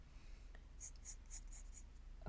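A cheap pencil scratching on paper while drawing a face, five short raspy strokes in an even rhythm, close but soft over a quiet room hum.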